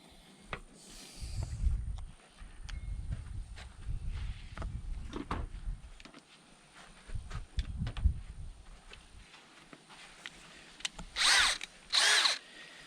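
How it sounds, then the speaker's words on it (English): A power drill fitted with a 5/16 bit bores out rivets on an RV awning cap in repeated whirring bursts of varying length, close and fairly loud, with handling clatter between bursts and two sharp high-pitched squeals near the end. "now we need to drill out with a 5/16 drill bit"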